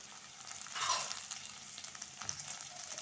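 Green chillies dropped into a pan of golden-browned onions, frying and being stirred with a steady, fairly soft sizzle and a light scrape near the start.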